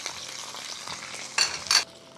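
Beef fillets fry and are basted in a pan for a green peppercorn fillet, a soft continuous sizzle broken by two brief louder crackling bursts near the end, with no voices.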